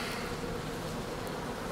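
Honey bees hum as a dense, steady buzz from an open hive during an inspection, close and continuous throughout.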